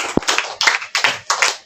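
Children clap their hands in a few short bursts, each a brief flurry of claps, close and lively in a room, with one sharp low knock near the start.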